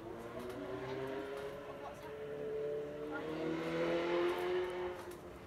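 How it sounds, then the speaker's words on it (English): A car passes close by during an outdoor trampoline gymnastics session, its engine rising and falling under steady talking for several seconds. "Sorry about the car noise."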